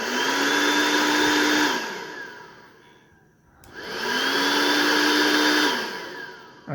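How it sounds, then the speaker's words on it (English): A homemade Arduino-controlled breathing machine runs its motor and relay in two loud cycles. Each cycle is a steady whirring whine that winds down and pauses, then a click as it starts up again. "you can hear the workings of the machine"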